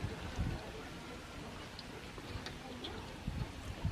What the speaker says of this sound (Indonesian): Hujan, ini hujannya.